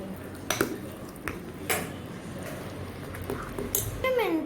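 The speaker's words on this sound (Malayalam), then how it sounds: "നന്നായിട്ട് ഇളക്കി" A spoon scrapes and clinks against a pan while laddu mixture is stirred, giving scattered metallic taps and scraping strokes close by, with a few softer squishy movements of the thick mixture.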